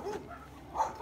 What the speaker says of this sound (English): house dogs everywhere